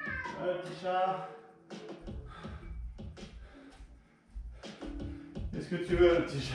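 A house cat meows repeatedly, close and insistent, with drawn-out cries that overlap and alternate with a person talking to it.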